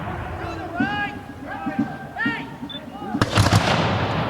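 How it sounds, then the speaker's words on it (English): Musket volley fired by reenactors at Concord's North Bridge on Patriots Day: a loud, broad crack near the end, after a stretch of outdoor crowd noise, calls and bird chirps. "then they face off to exchange volleys"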